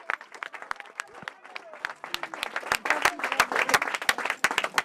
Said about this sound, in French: Je pense d'abord qu'on peut l'applaudir très très fort.